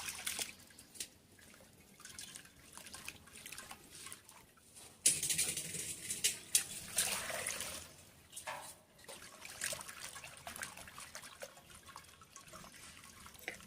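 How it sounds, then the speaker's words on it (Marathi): Water and wheat starch milk strained through cloth for jowar papad, a steady soft trickle and patter with drips, louder splashing pouring in the middle before settling back to a thin stream. "आपल्याला हे पाणी म्हणजेच हा चीक गाळून घ्यायचा आहे कापडाने"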